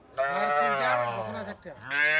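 Sahiwal cattle and calves call out at a farm. A long, loud, nearby moo is followed by a brief pause and a second moo.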